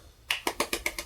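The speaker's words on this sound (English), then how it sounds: "He just claps really quickly." A person clapping quickly, six sharp claps in a fast, even burst, close and crisp, with no talking.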